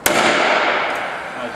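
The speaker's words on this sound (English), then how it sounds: "you're cleanly going to fire into the wood" A Paslode nail gun fires a nail into wood: one sharp, loud crack right up close, followed by a brief fading rush of noise.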